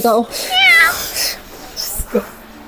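A cat meows several times in quick, wavering cries, close and fairly loud, with a short pause between calls.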